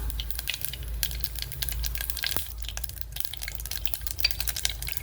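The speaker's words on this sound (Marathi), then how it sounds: "मोहरी थोडी तडतडून द्यायची" Mustard seeds splutter in hot oil for tempering, a busy scatter of sharp crackles and pops close by with no voices.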